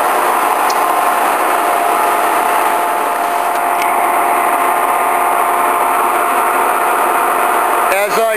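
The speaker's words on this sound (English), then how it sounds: "This is a shot of the machine running at 218 RPM. This is a high speed machine with 300 RPM max." A Webster & Bennett Model DH vertical turret lathe runs at 218 RPM with a steady, loud machine hum and high whine throughout, and a brief mechanical clunk near the end.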